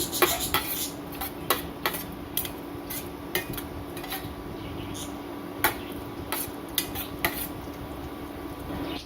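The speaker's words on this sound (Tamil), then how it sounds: "ஆயில் சூடானதும் 1 ஸ்பூன் ஜீரகம், 1 ஸ்பூன் பெருஞ்சீரகம் ரெண்டையும் போட்டு மிக்ஸ் பண்ணிக்கோங்க" Cumin and fennel seeds fry in hot oil as a spoon stirs them, with a low steady sizzle under repeated sharp metallic clinks of the spoon against the pan, heard without speech.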